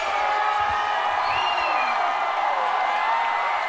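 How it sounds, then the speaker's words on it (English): Stadium crowd cheering during an India vs Nepal under-19 men's football championship match in Arunachal Pradesh: a steady, dense roar of many voices with scattered whoops, and a commentator talking over it. "Great acknowledgement from the crowd."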